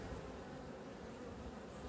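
Honey bees buzz steadily and continuously around a hive frame being handled, a dense, close insect drone with no talking.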